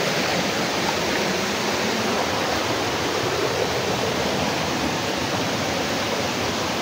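Creek water rushes steadily along the bank, a dense, continuous close-up roar of flowing water with no breaks and no voices.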